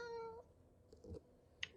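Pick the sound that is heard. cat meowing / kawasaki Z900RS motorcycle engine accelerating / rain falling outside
cat meowing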